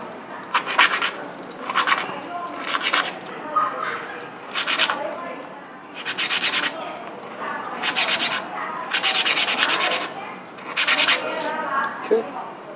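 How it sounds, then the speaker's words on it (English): A plastic billiard cue tip being roughened by hand with 120-grit sandpaper: about ten rhythmic, close, hissing scrape strokes in short bursts separated by brief pauses. "So we just use a sandpaper"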